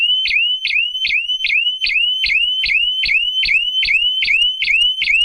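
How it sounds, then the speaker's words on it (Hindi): A safe load indicator buzzer on a crawler crane sounds a loud, steady train of about a dozen rapid electronic beeps, each a sharp chirp-like tone, repeating evenly with no talk. "और यहाँ पे हमने इसको अगर बजर बजाएंगे तो अनसेफ के अंदर है"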